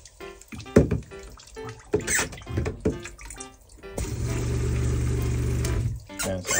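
Water gushing steadily from the shower of a camper trailer, a sustained spray of a couple of seconds following scattered drips and clunks of handling.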